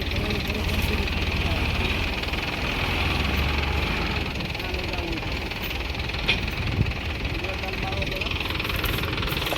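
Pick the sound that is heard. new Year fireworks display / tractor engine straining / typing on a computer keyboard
tractor engine straining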